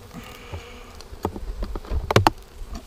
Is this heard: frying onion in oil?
no